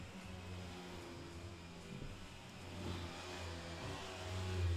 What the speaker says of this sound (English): sorry if you hear a vacuum in my background